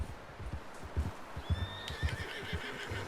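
A horse whinnies in the Red Dead Redemption 2 video game, a rising high neigh near the middle, over soft hoof thuds and light clip-clop close by.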